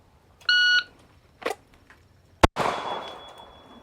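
At a shooting range, a shot timer gives a brief electronic beep, a light thump follows, then a single loud gunshot cracks out and trails off in ringing echo, with no voices.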